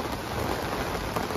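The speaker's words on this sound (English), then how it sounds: "We got hail coming down." Hail comes down hard in a storm over a boat moored on the Kiel Canal at Rendsburg, a dense, continuous clatter and hiss of stones striking surfaces, loud and close, with no talk.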